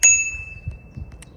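A single bright ding from a handlebar bell on a Koolux BK6S4.0 e-bike, ringing clearly at the start and fading over about a second, with faint handling thumps and a small second chime.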